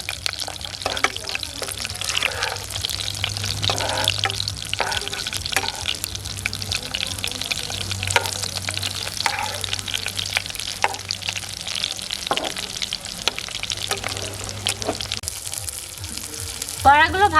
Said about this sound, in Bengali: একই তেলে বাকি বড়াগুলো ভেজে নেব।